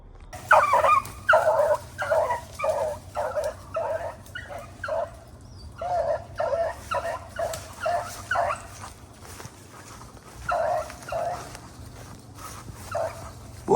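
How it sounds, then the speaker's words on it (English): Hunting dogs bark and yip in quick, repeated bursts as they chase a rabbit out of a swamp. The pack stays at mid-distance, calling in a steady rhythm with short pauses between volleys. "I'm going to let those dogs work out of that swamp down there"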